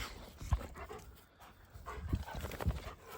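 Oslo, an excited dog, panting softly nearby in quick breathy bursts with a few sharper huffs, in an otherwise quiet room.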